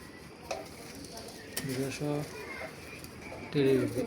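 Low, soft coos from domestic high-flyer pigeons come in a few short bursts near the end, with a faint background murmur.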